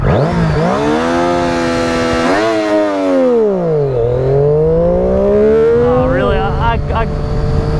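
A Triumph Daytona 675R sport motorcycle launches hard, its engine note rising steeply through the revs, dipping briefly at gear changes, then climbing again, loud and close throughout.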